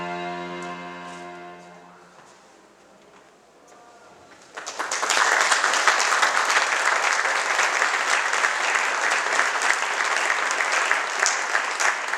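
Audience applause for the Settecento ensemble at a Holocaust remembrance event at a museum, rising suddenly after a quieter musical ending into sustained, dense clapping from a large crowd.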